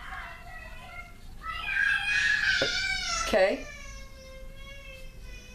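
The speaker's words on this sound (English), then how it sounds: "you can hear my kids screaming in the background." Children scream and shriek in the background indoors, high wavering cries rising and falling in the middle, with someone briefly speaking.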